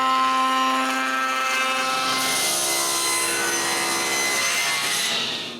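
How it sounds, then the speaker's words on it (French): Walnut cornice molding being cut by hand saw against a cutting guide, a steady close rasping stroke that rings with a tonal whine, continuous for several seconds before fading at the end. "je mets le guide de coupe et je coupe d'autres doucines pour les côtés"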